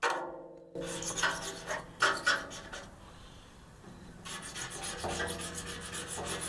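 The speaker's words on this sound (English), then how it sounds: "The rest of this stuff, using a scraper, yeah, it's not doing any good." A metal scraper grinds at leftover residue inside an etched tub, giving close, uneven scraping strokes in short bursts with brief pauses between them.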